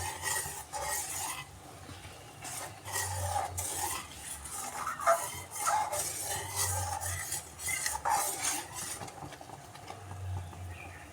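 A utensil stirs melting butter with lemon leaves in a pot while ghee is being made, scraping in slow repeated strokes over a soft, steady sizzle.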